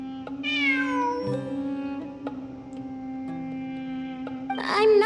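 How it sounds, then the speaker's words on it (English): A cat in the Genshin Impact video game meows twice, one drawn-out cry early and a second at the end, over a sustained tonal musical background. "It really is a cat."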